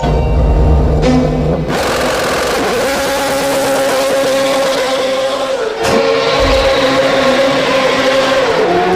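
A BMW M3 GTR E46 race car with a V8 engine roars loudly and steadily, its pitch rising and dropping as the revs change, with no talk over it.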